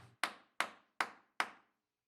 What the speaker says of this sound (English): I hammer through until the dowel protrudes from the bottom.